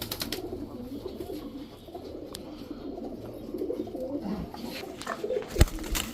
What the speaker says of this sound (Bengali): এই এখানে 3 পিস কবুতর আছে, একটা মাদি 2টা নর